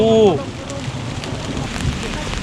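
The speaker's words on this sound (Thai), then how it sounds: "ฝนตกฝนตก" Heavy rain patters in a steady hiss on surfaces, with a brief voice at the start before the downpour carries on alone.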